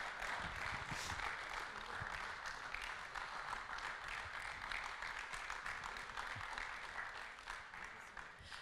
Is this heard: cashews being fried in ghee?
no